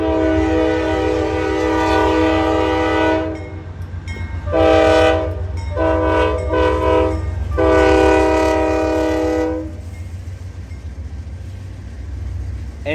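A freight train rumbles past in Austell, Atlanta, its horn blaring in long sustained blasts broken by short gaps, over steady rolling wheel noise that carries on after the horn stops.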